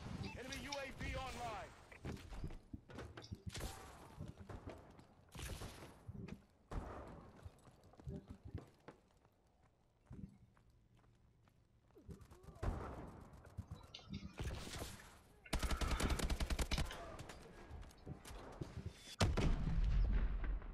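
Bombing run with bursts of gunfire and explosions in the first-person shooter Call of Duty: Advanced Warfare, loud booms and rapid shots coming in clusters, heaviest near the end, with game speech mixed in.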